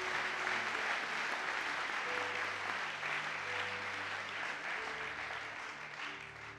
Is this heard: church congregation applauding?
yes